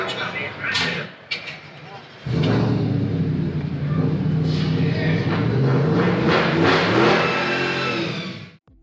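A powerful 760-horsepower Ford engine roars to life and revs hard at the SEMA 2019 show, a loud sustained growl near the listener, with crowd voices and cheers briefly audible before it starts.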